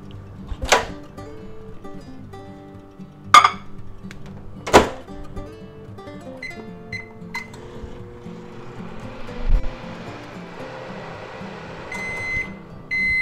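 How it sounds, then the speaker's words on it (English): A microwave oven hums steadily while running, punctuated early on by a few sharp beeps and clicks. "we're going to put that in the microwave on high for 40 seconds"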